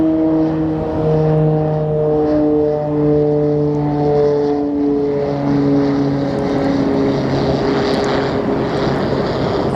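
A jet airliner takes off from the runway at Sky Harbor airport, its engines giving a loud, steady roar with sustained tonal whine that holds throughout, no voices over it.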